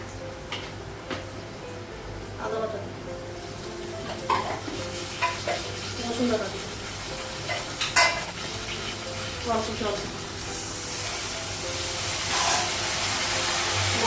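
Whole cumin, salt and other spices fry in a pan over already-fried potatoes and onion, giving a steady sizzle broken by sharp scrapes and clicks of a spatula stirring at irregular intervals, with no voices.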